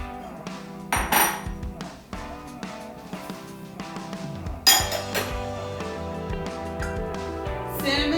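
A utensil mixes an egg into zucchini bread batter in a bowl, producing soft repeated clinks and scrapes of moderate loudness, with a few sharper knocks against the bowl.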